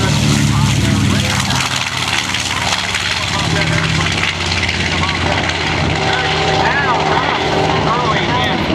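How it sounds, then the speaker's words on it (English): A twin-engine, twin-tail North American B-25 bomber flies past at an air show, its loud continuous propeller drone filling the whole stretch with a slowly shifting pitch, with a commentator speaking over it. "flying the command position of this twin-engine, twin-tail North American B-25 bomber"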